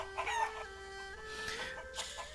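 Chickens in Shenmue III clucking and crowing, several close, shrill calls rising over a steady tonal background hum in a short burst.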